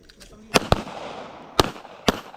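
Pistol shots ring out at a shooting range, four sharp, loud cracks spaced irregularly, with people talking quietly between them.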